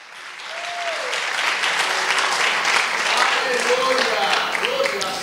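Loud, sustained applause from a church congregation fills the space, with voices and a few tonal calls rising above the clapping throughout.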